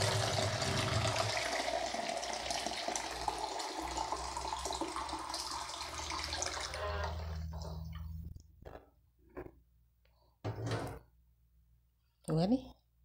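Water pours steadily into a pot for making liquid laundry soap, a loud rushing splash lasting several seconds before it stops, followed by a few clunks, light knocks and a brief voice.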